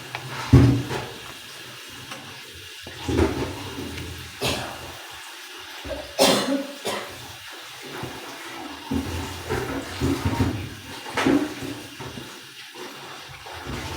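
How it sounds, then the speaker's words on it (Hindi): Water is poured and drained off boiled mustard greens in a home kitchen, coming in several splashing gushes separated by quieter pauses, with occasional clanks of the pot. "अब हम इसका पानी निकाल देंगे।"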